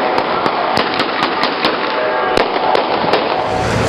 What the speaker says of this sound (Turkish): Polis tarafları ayırmak için havaya ateş açtı.